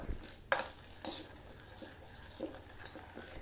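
A Tanjore painting paste thickened with gum is stirred with a spoon in a bowl: a few sharp metallic clinks followed by soft scraping and stirring, close and fairly quiet with no speech.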